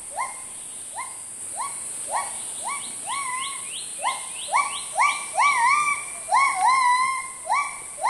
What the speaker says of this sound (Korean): 바로 이 뒤에서 기번들의 울음소리가 지금 들리고 있습니다.